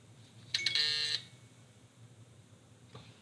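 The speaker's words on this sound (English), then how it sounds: "My little alarm just went off." A small electronic alarm goes off in a quiet room, sounding a brief burst of rapid high-pitched beeping that lasts about half a second, then cuts out, followed by a faint click.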